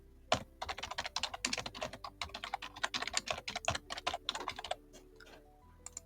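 Fingers type on a computer keyboard in quick, uneven bursts of crisp, close keystrokes, fairly quiet and with no voice.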